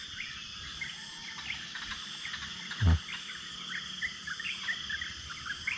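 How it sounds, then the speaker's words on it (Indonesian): Birds call in a mountain forest near Gunung Tahan, scattered chirps over a constant chorus of insects, with a brief low thump partway through and no talk. "Ini burung."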